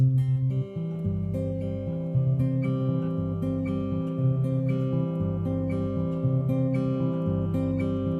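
Steady fingerpicked guitar pattern, notes rolling evenly across the strings in a repeating arpeggio, clear and close with no voices.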